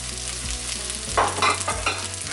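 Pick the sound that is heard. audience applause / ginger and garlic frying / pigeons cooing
ginger and garlic frying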